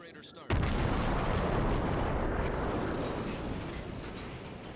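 Warship secondary guns firing in a video game naval battle: a sudden loud boom followed by a long, rolling rumble that slowly fades.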